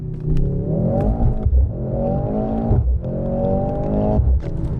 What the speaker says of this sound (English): we'll slow down a little bit, drop a few gears, floor it.